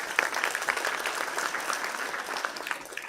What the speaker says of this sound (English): Let's give a huge round of applause to Salas.